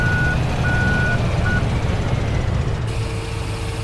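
Empty farm trailers reversing in Farming Simulator 17, a loud steady engine drone carrying intermittent high reversing beeps that repeat in short pulses, with no voices.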